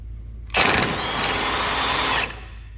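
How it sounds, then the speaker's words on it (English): A power tool spins out the right-side lower bolt of a sway bar end link in a brief, loud burst of roughly two seconds, alone, with no talking. "Right side lower bolt coming out."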